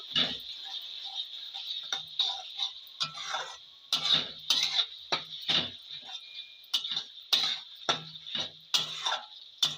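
A spoon stirs beef curry with tomato pieces in a pan, making light scraping and tapping clicks in an irregular rhythm, close and fairly clear over a steady high hiss.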